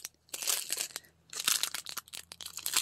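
Crinkly plastic rustling in two bursts, close up, with crackling and scrunching as packaging is handled.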